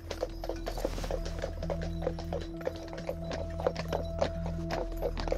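Hooves clip-clop in a steady, even rhythm on a hard surface, accompanied by a constant low mechanical drone; a horse of a North Sea shrimp-fishing rider.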